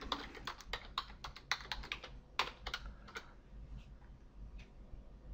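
Rapid, uneven clicking of keys on a computer keyboard as someone types, loud and close, with the pace thinning out toward the end.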